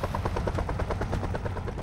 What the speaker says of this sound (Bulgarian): Хеликоптера! Ето го! Хора, вижте!